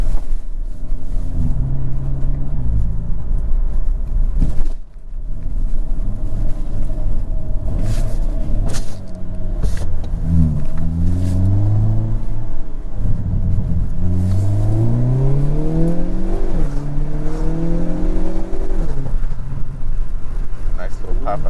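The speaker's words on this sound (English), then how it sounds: "And the burbles and the pops." Hyundai Kona N exhaust burbling and popping from inside the moving car, a loud rising and falling engine note with revs climbing through the gears and scattered crackles on lift-off, under steady road and cabin noise.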